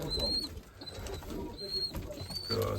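Crested, feather-footed flying pigeons coo softly in a loft, with low murmuring calls repeating irregularly among faint rustling and background noise.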